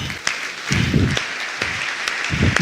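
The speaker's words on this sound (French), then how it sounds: "Bon, j'acclame moi-même." One person clapping for themselves in a church setting, several loud close claps in short bursts with brief pauses between them.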